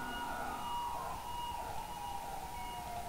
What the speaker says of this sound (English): That's a local ambulance.